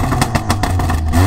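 A car engine revs up toward 4,000 RPM in a short, loud, raspy burst, heard up close.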